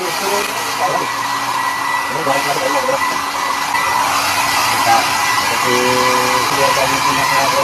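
A hair dryer blows a steady, loud, whining roar while drying a damp washing machine part, running without a break, with faint talk under it.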